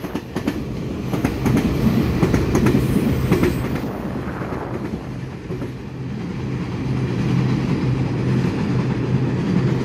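A twelve-car EMU3000 electric train on Taiwan's line from Hualien passes close by, a loud steady rumble with rhythmic wheel clatter that swells early, then settles into a continuous rolling roar, with no talking.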